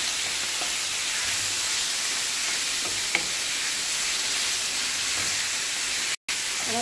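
Chicken sizzles steadily in hot olive oil in a pan, a continuous near hiss with a few faint stirring scrapes and a brief dropout near the end.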